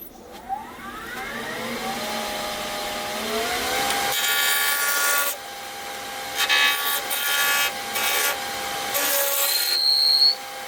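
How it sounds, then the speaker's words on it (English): A wooden surfcasting lure spun on a lathe and rounded over with a gouge, giving a loud continuous scraping cut over the lathe's whine, the tool dropping in and out of contact several times. "And then I'll probably use my skew chisel or a spindle gouge to just round over the tail"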